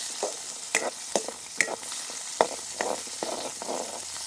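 Pirandai thokku sautéing in a pan, a soft continuous sizzle punctuated by repeated sharp scrapes and taps of a spoon stirring, close and moderately loud with no talk.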